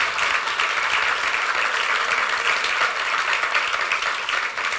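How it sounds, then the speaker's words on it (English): Investors at a streaming startup pitch applaud together, a moderate, even wash of clapping that holds steady without cheers or voices for about five seconds. "I think we need a round of applause for accomplishing this."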